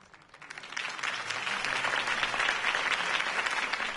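Crowd applause in the video game Batman: The Telltale Series swells up quickly from quiet after a campaign speech and holds as a dense, sustained clapping roar.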